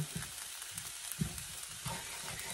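Flour browning in a pan like a roux for Salisbury steak with mushrooms and onions, a soft steady sizzle with occasional faint scraping stirs, quiet and close with no talking.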